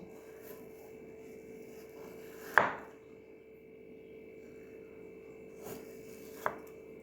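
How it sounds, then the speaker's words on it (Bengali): A knife cuts a ripe mango into pieces on a kitchen board, giving a few sharp, separate chops with quiet pauses between them over a faint steady hum. "এবারে এটাকে আমি পিস পিস করে কেটে নেব"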